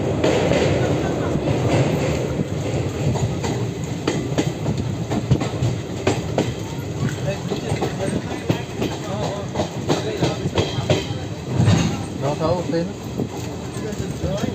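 A train rolling on rails near Agra, with a loud, continuous rumble and clattering wheel noise throughout, close by and dominating, with voices faintly present beneath.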